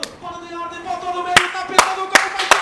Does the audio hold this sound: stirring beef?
no